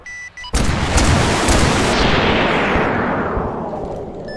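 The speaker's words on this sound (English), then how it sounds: "Is that friendly mortar fire on the compound factory?" Mortar rounds slam into a factory compound in Arma 3, a sudden loud boom followed by heavy rolling rumble and debris wash that slowly decays over several seconds, with no talk.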